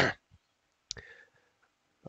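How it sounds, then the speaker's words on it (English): A person coughs: one sharp burst right at the start, then a second short cough about a second later, with near silence in between. "Apologies for the cough."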